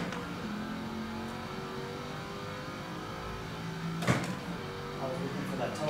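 2005 Saleen S7 twin-turbo car accelerating on a track in third gear, a steady loud engine drone heard from inside, with a brief sharp burst partway through and talk over it.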